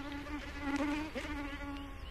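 A steady, thin whine of mosquitoes buzzing close by, rising and wavering slightly in pitch, alone and fairly faint in the jungles of New Guinea.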